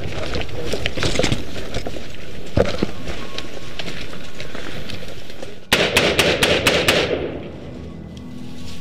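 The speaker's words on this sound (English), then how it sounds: "Closer to the drug lab, an insurgent marksman gets into position to direct accurate fire." Gunfire from an insurgent marksman in combat near a drug lab: a rapid burst of sharp cracks rings out after a stretch of wind and rumble, loud and fairly close, then fades to quieter noise.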